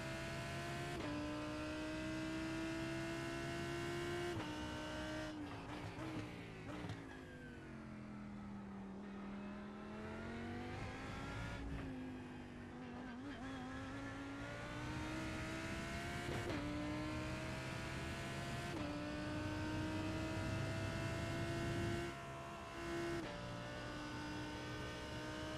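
A race car in the iRacing sim sliding through a corner, its engine note rising and falling through repeated revs and shifts, loud and continuous throughout with no voices.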